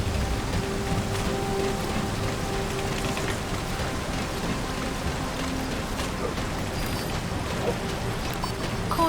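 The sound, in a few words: rain in the video game Metal Gear Solid V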